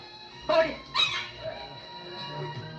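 Two short dog yelps close by, followed by quieter whimpering, over low background noise.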